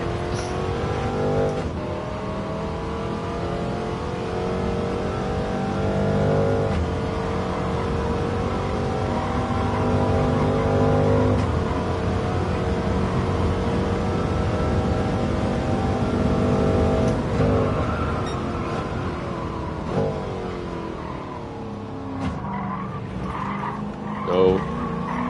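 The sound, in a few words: De Tomaso race car engine at Monza, video game Gran Turismo 7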